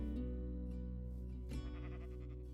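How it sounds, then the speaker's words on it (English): Sheep bleating in the Minecraft video game, a single wavering bleat rising over a steady, droning low background hum, with no speech. "It's a sheep."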